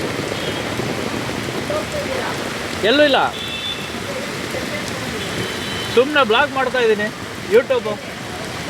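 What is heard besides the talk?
rain falling in Bangalore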